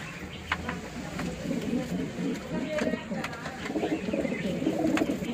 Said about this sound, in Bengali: এগুলো সব দেখতেই পাচ্ছেন খুব সুন্দর সুন্দর পায়রা রয়েছে